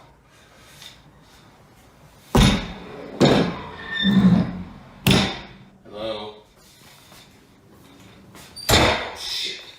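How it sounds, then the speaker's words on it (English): A door slams shut by itself in a quiet room, heard as a few sharp, loud thuds with rustling between them, and a voice briefly calls out. "so the door slammed by itself"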